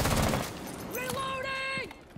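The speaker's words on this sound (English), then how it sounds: "I pulled out the shotgun because he knew I was coming." Shotgun blasts in Rainbow Six Siege, a few sharp reports with a sustained tonal ring between them, heard up close with no talk.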